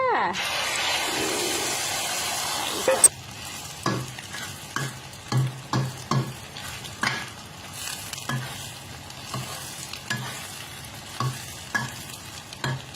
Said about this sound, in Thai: เราจะทำไข่ชะอมนะคะ วันนี้ เราใส่ไข่เลยค่ะ ใส่ไข่เข้าไปเลยค่ะ